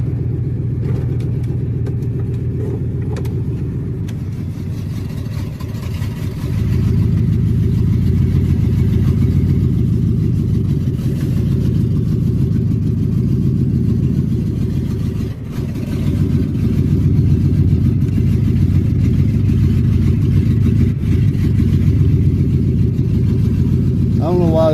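A vehicle engine runs in low range in a driveway, a steady loud low rumble that swells slightly as throttle is applied and then holds, with faint background noise and no speech.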